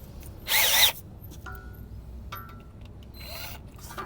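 A short burst of high-pitched drilling whirs for under a second as a drill bit cleans out a hole while replacing an ABS speed sensor on a Porsche Cayenne, followed by faint scraping and a couple of quieter tool sounds.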